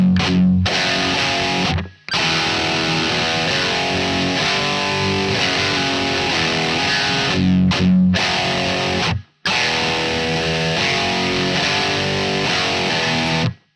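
Heavily distorted electric guitar chugs through variations of a riff, loud and continuous, with two brief stops that break up the repeated muted patterns.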